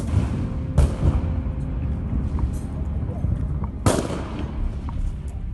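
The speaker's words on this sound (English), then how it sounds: "a soldier that is in front, firing RPGs on Russians." RPG-7 rocket launchers firing during combat between Ukrainian and Russian forces, two sharp loud blasts a few seconds apart over constant rumbling battlefield noise, with voices talking throughout.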